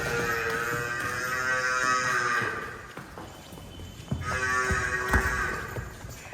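A buffalo at a dairy farm gives two long, loud mooing calls close by, with a quieter pause between them and faint farmyard background noise.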